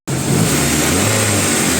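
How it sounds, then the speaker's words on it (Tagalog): A car engine revved hard during an alternator charging check, starting abruptly and holding a loud, steady, high-revving roar close by for nearly two seconds. "I-revolution nyo po tayo, di kumakarga yan"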